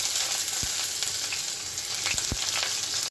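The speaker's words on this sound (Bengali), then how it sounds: "এই যে লোহার করে বসিয়ে দিয়েছি, এখন এটাতে দিয়ে দেবো পেঁয়াজ।" Onion frying in an iron pan gives a steady, dense sizzle heard up close, with a few soft stirring knocks beneath the continuous hiss; no talk.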